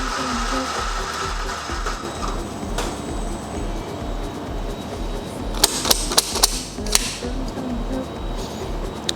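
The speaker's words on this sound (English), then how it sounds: "Make sure the burrs are at the correct setting and grind your beans" A Sanremo X-ONE coffee grinder grinds espresso beans through its burrs: a close, steady motor whir with a rhythmic low churning pulse and a burst of sharp clicks toward the end.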